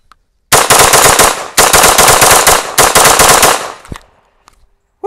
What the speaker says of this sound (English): So let's just keep shooting it in binary, see what happens.